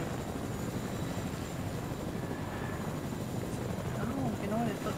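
A helicopter flies in the video game Fortnite, its low rotor drone and engine rumble holding steady throughout, with faint scattered game sounds on top.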